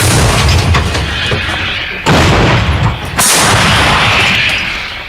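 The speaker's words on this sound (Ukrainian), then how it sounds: "Армата! Постріл!" Two loud, booming cannon blasts about a second apart, each a heavy thud with a long rumbling tail, over steady outdoor noise at a frontline position.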